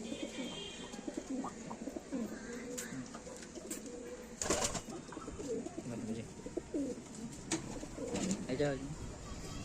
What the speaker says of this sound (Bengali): এটা নতুন জেনারেশন সালারা টেডি নর